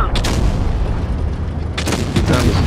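Tank cannon shots in the game World of Tanks Blitz: deep, loud booming blasts with rumbling low end, one near the start and another toward the end, over continuous battle noise.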